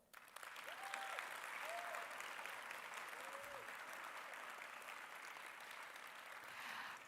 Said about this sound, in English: can we do another one, but a much louder round of applause?